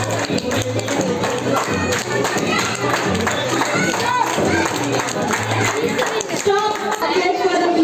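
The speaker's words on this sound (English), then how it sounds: "Clap, clap, clap." A grandparents day audience clapping steadily in a room, a dense patter of many hands mixed with children's and adults' chatter throughout, close and fairly loud.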